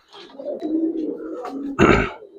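Giribaz and coloured pigeons for sale give a brief throaty cooing, with a louder, fuller burst near the end of the short stretch.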